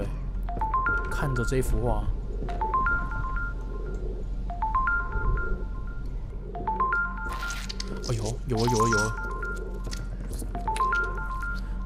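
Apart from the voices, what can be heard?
telephone dialing and ringing in the video game Supernatural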